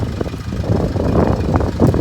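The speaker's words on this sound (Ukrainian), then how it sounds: "Мотор працює ідеально" A 2012 Renault Koleos with a 2.0 diesel engine idles steadily with a low, even rumble and faint knocking texture, heard alone without talk.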